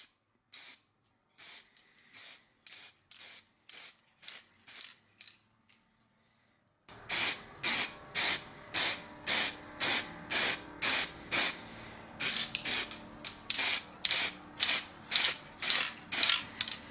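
Clear coat sprayed from an aerosol can onto a restored axe head, a long run of short regular hissing bursts, sparse and quieter at first, then louder and rapid against a busier background.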